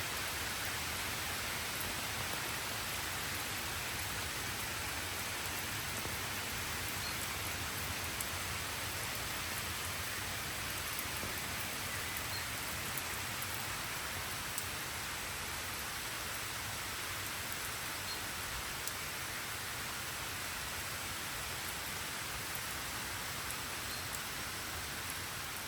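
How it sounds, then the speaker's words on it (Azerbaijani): A heavy downpour in the Netherlands produces a steady, dense hiss of rain on surfaces, continuous and even throughout at moderate loudness, with no voices. "Çünki inanılmaz bir leysan yağış başladı hazırda."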